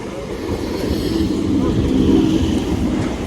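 A train's low, steady rumble fills the air, swelling slightly midway, with faint voices in the background.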